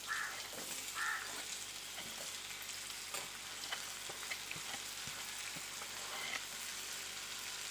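Chopped onions sizzle in hot oil for a spicy egg pepper masala, a steady soft hiss of frying with occasional stirring clinks and scrapes, fairly quiet and continuous throughout.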